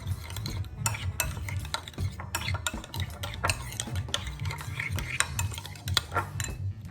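A honey marinade for a whole roasted chicken being mixed in a bowl, with a spoon clinking and scraping in a steady repeating rhythm, close and fairly quiet.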